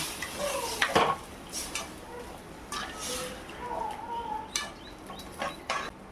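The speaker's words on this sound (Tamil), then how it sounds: "அப்படியே ஊற்றிடலாம் ஃப்ரெண்ட்ஸ். வதக்கிடலாம் ஃப்ரெண்ட்ஸ்." A spatula scrapes and clinks against a cooking pan as food is sautéed and stirred, with light, scattered metallic taps over a steady, faint background hiss.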